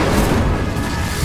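In Hogwarts Legacy, a cast Incendio fire spell gives a loud, full-bodied whoosh of flame that roars steadily for about a second without pause.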